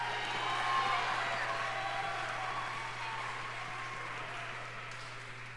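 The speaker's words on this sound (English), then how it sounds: "Please give him a big round of applause." Concert audience applause for a cello soloist at a spring concert, a dense, even wash of clapping from a crowd that swells early and then slowly eases, with a steady low hum beneath.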